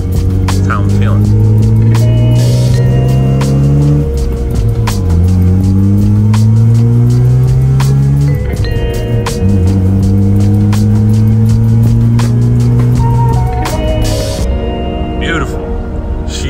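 A Mazda RX-7 drives steadily, its engine droning loud from inside the car and climbing in pitch through repeated gear changes, with a person talking over it.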